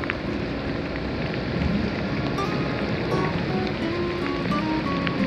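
A heavy rain shower pours down on a Da Lat street in a dense, steady hiss that stays loud and unbroken throughout, with faint scattered sounds underneath.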